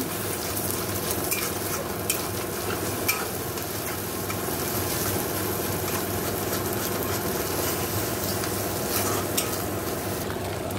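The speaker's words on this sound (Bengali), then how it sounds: "দেখো ডিমও ভেঙে দিলাম, ডিমটাও ঝুড়ি ভাজা করে নেব।" Egg being scrambled and fried in a pan, part of a home-cooked chow mein dish, with steady close sizzling and stirring scrapes throughout and no talking.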